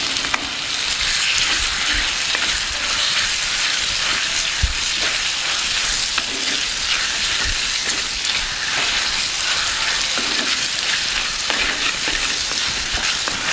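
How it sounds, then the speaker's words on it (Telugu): Chopped tomato pieces and onions fry in a pan for a small potato curry, giving a steady, loud, continuous sizzle with occasional stirring clicks and no talk. "ఇప్పుడు దీనిలో కట్ చేసి పెట్టుకున్న టమాటా ముక్కలను వేస్తున్నాను"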